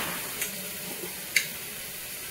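Chopped onions sautéing with salt and turmeric, giving a faint, steady hiss of frying punctuated by a couple of small ticks and one sharper click, close and quiet with no voices.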